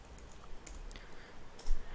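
Computer keyboard keys are pressed, including the spacebar, giving several quiet, sparse clicks and taps at a desk with no voices.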